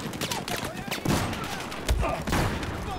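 Battlefield 4 gunfire, irregular bursts of shots and overlapping fusillades crackling at mid distance, with occasional heavier impacts amid the battlefield din.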